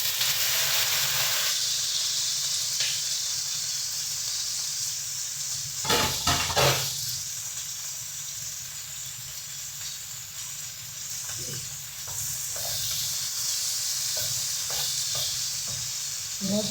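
Okra frying with onion in a pan gives a loud, steady sizzle throughout, with a brief burst of clattery stirring partway through.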